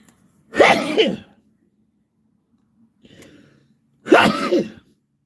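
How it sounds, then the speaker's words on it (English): Two sharp bursts of a person sneezing, separated by a quiet pause with a faint breath in between, close and loud. "I gotta sneeze"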